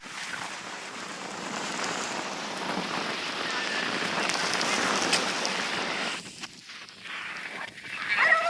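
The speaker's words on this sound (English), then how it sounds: "It's getting way more rainy" Rain falling steadily on a surface outdoors, a dense even patter that eases briefly near the end and then swells again, no talk.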